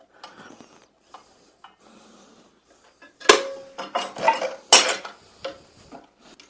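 Drive belts being shifted by hand between the steps of the pulley on a Jet woodworking lathe: metallic clanks, rattles and ratcheting clicks close by, light at first and then a louder burst of knocks and scrapes, with no talking.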